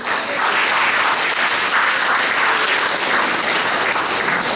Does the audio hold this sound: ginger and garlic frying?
no